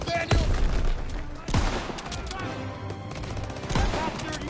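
Rifle and machine gun fire in a World War 2 video game battle, sharp close shots over a dense, continuous fusillade with background combat noise.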